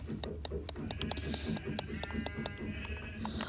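Sheep in the video game Minecraft bleating a few times amid soft clicking and game noise, fairly quiet, with a voice talking faintly.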